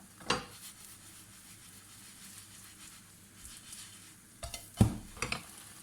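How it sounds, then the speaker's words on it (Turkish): Zucchini börek fries quietly in a pan under a soft steady sizzle, punctuated by a few sharp clinks and scrapes of a utensil against the pan. "diğer yüzeyini de bu şekilde kızarana kadar pişiriyoruz."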